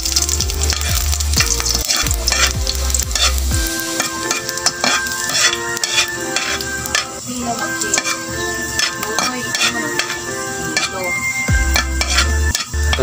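Garlic sautéing in a hot pan for spicy octopus adobo, with steady loud sizzling, repeated stirring scrapes and occasional clinks of a utensil against the pan throughout.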